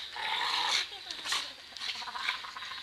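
Dogs growling while tugging at a rope in play, a close, low rumbling snarl with short bursts and whimpery yips, faint and scrappy over a few seconds.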